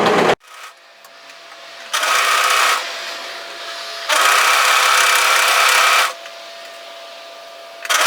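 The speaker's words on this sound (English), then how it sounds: "just as we're serging this" A serger whirs through a fabric seam in bursts, two long loud runs of rapid stitching with quieter motor hum and pauses between them, close up.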